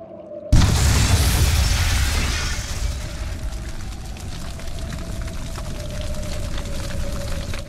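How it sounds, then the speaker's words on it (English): A loud explosion of flamestone, sulfur and oil in Tales of Berseria bursts in suddenly after a brief quiet and booms heavily, then fades into a long rumbling roar with a sustained hum beneath. "Tools of flamestone, sulfur, and oil. Those will explode."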